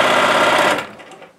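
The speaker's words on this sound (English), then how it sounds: "no matter how far I push on this foot pedal, it will only stitch half speed" A Bernina 1080 sewing machine runs under foot-pedal control, a steady fast mechanical whir of stitching that stops after about a second, with no talk.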